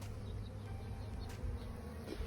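Honeybees buzz steadily and close around an open hive during an inspection while feeding on syrup, a dense, continuous drone with no talking.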